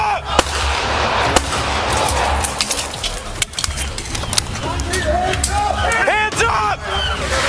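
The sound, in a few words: gunshots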